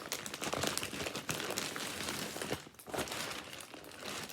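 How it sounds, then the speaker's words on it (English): A plastic bag crinkles and rustles steadily at close range while a yarn package from a mail-order craft supplier is unboxed, with dense continuous crackling and brief louder crunches, no voices. "It's got one of those plastic bags that we like."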